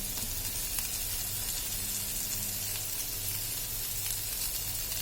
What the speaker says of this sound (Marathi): कारल्यांवर तेल टाकून घ्यायचे जेणेकरून आपले कारले छान शिजतील